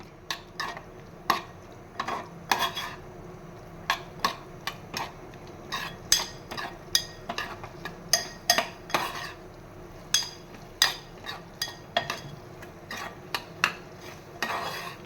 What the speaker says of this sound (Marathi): आता ही चवळी याच्यामध्ये परतवून घेऊया छान